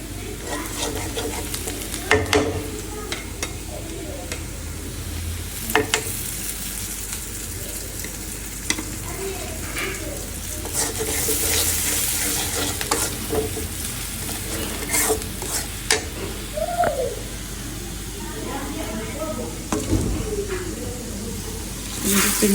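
Meat cooks in a pan with turmeric and chili powder, a steady sizzle running beneath repeated scraping strokes of a spoon stirring it, close and fairly loud.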